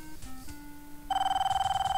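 An in-game telephone rings in the police adventure Police Quest: Open Season, starting with a few soft tones and then loud repeated electronic bell trills with a steady rapid pulse.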